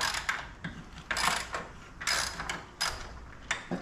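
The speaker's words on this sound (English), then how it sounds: "Now all we have to do is remove these three bolts." A hand ratchet clicks in rapid repeated bursts at close range, loosening front control arm bolts on a Nissan GT-R. The pawl chatters in several strokes separated by short pauses, and no voices are heard.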